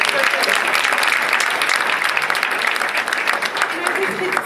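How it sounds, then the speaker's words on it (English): Sustained applause from an audience at a children's awards ceremony, a dense steady wash of clapping at close range with murmuring voices mixed in, holding at an even level throughout. "I think they deserve another round of applause"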